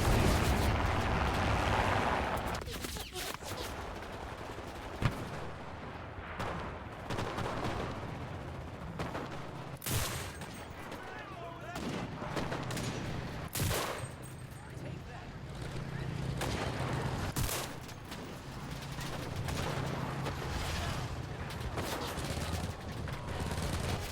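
Gunfire in the World War II shooter Enlisted, with sharp shots and bursts cracking repeatedly over a continuous battlefield din, some reports close and loud, others more distant, under intermittent talk.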